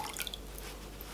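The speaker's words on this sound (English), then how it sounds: "You're going to add about one part of the vinegar to 4 parts of water." Vinegar spooned into water for a fruit and vegetable wash gives a few faint, close drips and small splashes in a quiet room.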